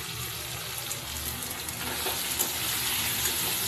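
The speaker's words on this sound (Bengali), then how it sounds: "ওলটা পুরোটাই ঢেলে দিলাম, একটু ভাপিয়ে নিয়েছি।" Elephant foot yam, steamed first, frying and being stirred in a pan, with a steady broadband sizzle that grows slightly louder and carries soft stirring scrapes, and no one talking.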